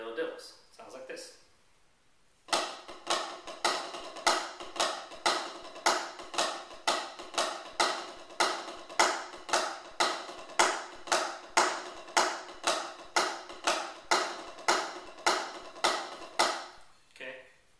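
Paradiddle-diddle rudiment played with sticks on a drum practice pad at a moderate, even tempo: a long run of crisp, dry taps in steady grouped patterns, close and clear, after a brief pause at the start.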